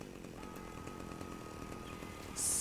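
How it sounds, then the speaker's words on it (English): Faint chainsaw whirring from the anime Chainsaw Man, a low steady mechanical buzz held quietly in the background, with a brief brighter burst near the end. "just hear the faint chainsaw"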